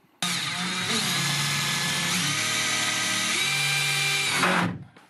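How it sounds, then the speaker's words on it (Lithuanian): A power drill drives a single screw into a bucket, running in one continuous loud whir of about four seconds with slight pitch dips, then spinning down and stopping. "Vienu varžtu prisukau prie kibiro."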